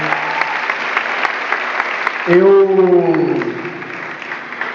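Audience applause at a youth political event in Rio de Janeiro, a dense clatter of clapping that carries throughout, while a voice briefly speaks and a tonal sweep rises over it midway.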